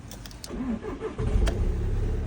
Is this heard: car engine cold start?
yes